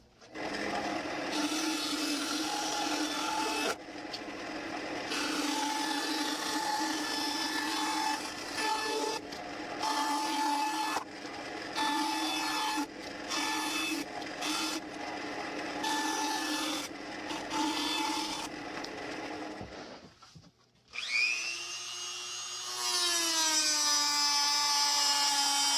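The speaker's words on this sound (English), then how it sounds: "with this bit, which is a 1/2-inch countersink tool" A 1/2-inch countersink bit cuts into a Glock 19 Poly 80 polymer frame, a steady loud whirring grind that stutters through repeated short passes for about twenty seconds, then rises into a higher, brighter spinning whine at the end.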